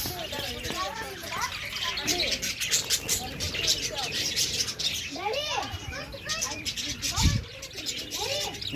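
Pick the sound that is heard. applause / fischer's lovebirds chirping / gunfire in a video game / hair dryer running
fischer's lovebirds chirping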